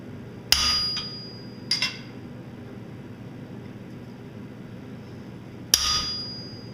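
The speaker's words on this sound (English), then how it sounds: "With the cutting plate and a sharp hot cut chisel, I start to form the claws." A hammer strikes a hot cut chisel to split forged iron into claws: three sharp, ringing metallic blows, two close together and one later, each ringing briefly over quiet shop background.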